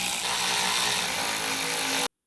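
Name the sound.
power tool tightening bumper bolts on Toyota Tacoma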